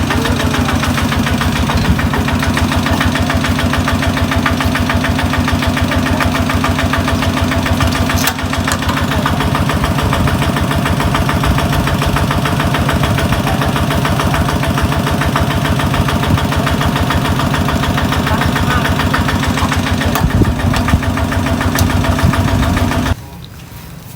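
A modified racing car engine idles steadily close by, a loud continuous rumble with a rough, uneven pulse that barely changes until it cuts off abruptly near the end.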